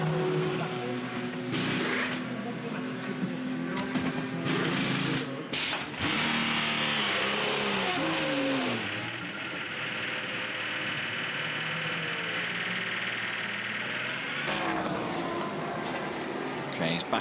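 Le Mans prototype race car at the 2014 24 Hours of Le Mans, its engine droning loudly and continuously along the circuit, with engine pitch shifting as it passes and speech-like noise over it.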